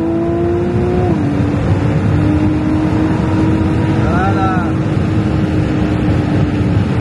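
Ferrari 296 GTB, an 830-horsepower sports car, droning steadily under acceleration with a rising engine tone, heard loud and continuous from inside the cabin while people talk over it.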